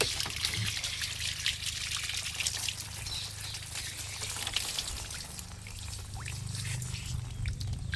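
Tap water trickles and pours steadily while being collected to fill a Sintex tank, a faint continuous splashing heard alone at close range.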